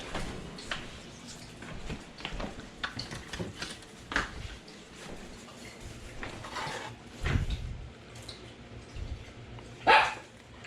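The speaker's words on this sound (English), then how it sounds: "Eric, don't be barking" A dog barks a few times, short sharp barks spread across a cluttered outdoor scene at a backyard BBQ where ribs are being cooked, with scattered clatter and background noise.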